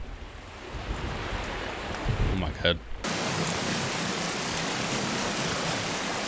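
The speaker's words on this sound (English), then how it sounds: "The water has some sound issues" Water in a video game world with glitchy sound: steady, loud surf-like rushing noise that cuts in abruptly halfway, with a man's brief exclamation just before the switch.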